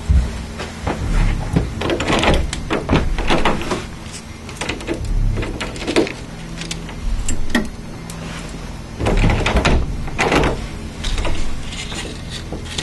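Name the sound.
door moving or closing in a hotel hallway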